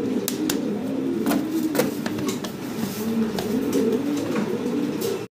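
Blue barless German Modena pigeons coo in a low, continuous, close murmur of overlapping calls, broken by scattered sharp clicks and taps, with no talking.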